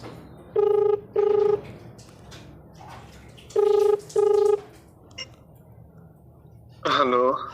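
A mobile phone call is dialed, giving two pairs of steady electronic tones, each about half a second long and separated by a short gap, followed by a brief burst of a different sound at the end. There is no talking.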